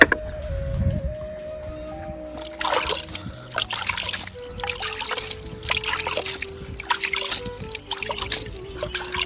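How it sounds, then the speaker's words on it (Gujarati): Water trickles and splashes in bursts against a surface, with a steady low tonal hum running underneath throughout. "તો અહીં થોડીક પાણી ઝાલખ મારીને ધોઈ નાખીએ આપણે"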